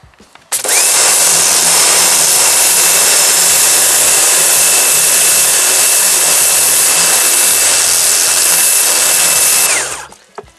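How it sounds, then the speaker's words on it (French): A Kärcher pressure washer blasts driftwood clean, a loud steady broadband hiss with a constant high whine that starts abruptly, holds unbroken for about ten seconds, then cuts off. "pour nettoyer les bois, comme vous pouvez le voir, j'utilise le Karcher, ce qui permet d'enlever les restes d'écorce"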